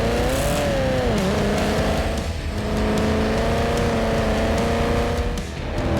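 Ford FG XR8 Boss 290 racing on a track, its engine loud and close, revving hard with pitch rising and dipping through gear changes in a continuous roar.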